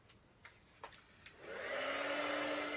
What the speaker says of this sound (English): Let me move that out of the way so that I don't blow it away with the heat gun.